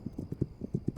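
Horse hooves clip-clop in the video game Resistance 2, a quick, even run of about eight close, punchy thuds within a second, heard alone.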